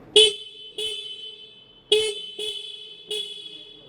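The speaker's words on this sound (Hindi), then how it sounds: "तो हॉर्न एक बार मैं बजा के दिखा देता हूँ आप लोगों को।" The horn of a 2023 Tork Kratos R electric motorcycle beeps five times in short, bright bursts with brief gaps between them, loud and close.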